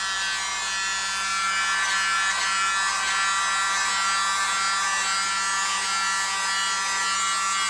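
A small handheld blow dryer blowing on acrylic paint for an acrylic pour, a loud, steady motor whir and airflow hiss held close and unbroken throughout.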